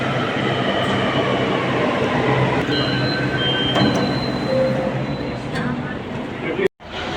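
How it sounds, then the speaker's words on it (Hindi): Metro train pulling into a station platform, a steady loud rumble and rail hiss with faint squeal tones, under crowd chatter and a voice speaking throughout. "दूसरे साइड जाने वाली मेट्रो आ गई है"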